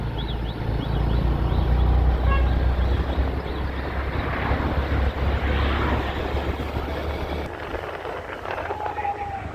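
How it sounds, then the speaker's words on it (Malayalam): A motorcycle engine rumbles to life and keeps running, a continuous low drone at a busy Vizhinjam Uroos festival ground, with voices talking over it. "സ്റ്റാർട്ട് ആയിട്ട് ബൈക്ക്"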